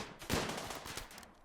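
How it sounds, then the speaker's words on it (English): Gunfire from the RimWorld colony sim during an insect hive infestation: a sharp burst of shots near the start, followed by a rapid, ragged volley of cracks that continues at a lower level. "do you want to get out of the way of the gunshots?"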